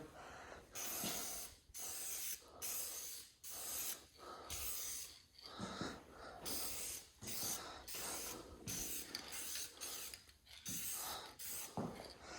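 A spray gun lays a light tack coat inside the cab of a 7.3 Powerstroke truck during an interior refresh, giving a steady series of loud hissing bursts that come in rapid, slightly uneven pulses throughout.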